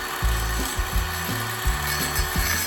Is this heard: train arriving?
no